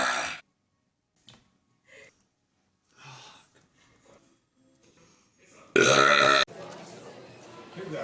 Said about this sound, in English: Burp! Give me a second.